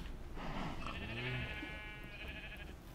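Minecraft sheep bleating, a clear wavering baa near the middle over a steady low hum of game ambience, fairly quiet and close.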